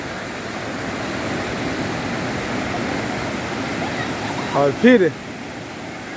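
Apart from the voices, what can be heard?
sea waves at Gokarna, Karnataka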